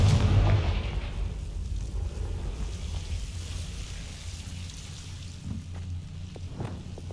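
A fire spell cast in Hogwarts Legacy bursts with a heavy booming blast at the start, then trails off into a long crackling, rumbling decay, fairly faint overall.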